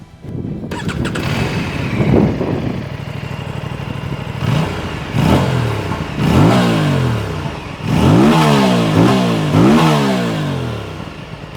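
An Aprilia RS 457 inline-twin motorcycle engine starts, then revs up and down in several sharp bursts, loud and close, settling briefly to idle between throttle blips.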